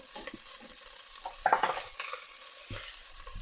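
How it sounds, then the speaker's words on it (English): Chopped bacon browns in a pot for corn chowder, with a quiet sizzle broken by a few stirring scrapes and clinks of a utensil against the pot. "We'll add the bacon that I've chopped up in here. We're going to brown this for a few minutes so it's crispy"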